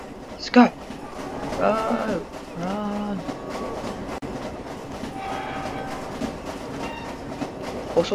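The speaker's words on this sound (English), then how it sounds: "There's a train." A train passes in the Roblox game Jailbreak, with a horn blast, rolling rail clatter and steady rumble, while a person talks over the passing train.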